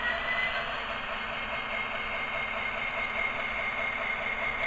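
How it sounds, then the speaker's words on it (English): Athearn Genesis SD70ACe model train locomotive with its sound-equipped diesel engine revving up, a steady, continuous mechanical drone with a whining tone on top, holding level throughout at moderate loudness with no talk over it. "And the engine's revving up again."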